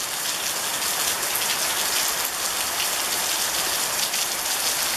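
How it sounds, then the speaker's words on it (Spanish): Heavy rain pours steadily in Montevideo, a dense, even hiss of countless drops drumming on surfaces with no pauses and no voices. "Está lloviendo copiosamente."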